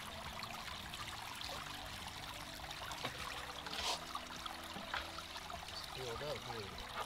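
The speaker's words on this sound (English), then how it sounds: "Some more water flow, it looks like." Creek water trickles steadily through a gold-prospecting sluice fitted with a sluice mat, a quiet, continuous flow with occasional small splashes.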